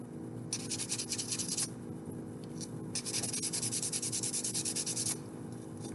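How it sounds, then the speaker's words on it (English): Wet/dry 320 grit sandpaper rubbed against a gallery wire ring, quiet repeated scratchy strokes in two bursts over a steady background hum, close and faint, with no talking. "So that's just 320 grit sandpaper."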